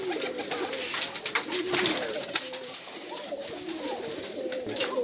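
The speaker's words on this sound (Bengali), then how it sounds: "আর দেখি গোর্রাটা, মানে গোর্রা কবুতরের নাম," Gorra breed pigeons coo softly and repeatedly on a pigeon farm, a low murmuring chorus with faint clatter and a little distant talk behind.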